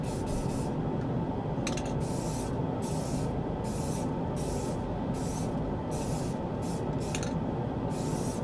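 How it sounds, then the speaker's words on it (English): Continuous hiss of spray paint applying claret wine satin onto a boomerang, steady and close with brief pauses between passes, no talking. "We're about to spray on the claret wine satin, and we're gonna highlight it with black."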